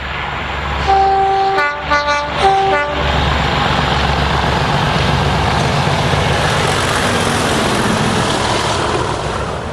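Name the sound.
DRS diesel locomotives 37601 and 611 hauling nuclear flask train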